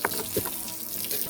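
Water splashing and running steadily while plants are watered in a home garden, a continuous close wash of spray with a few brief louder bursts and no voices.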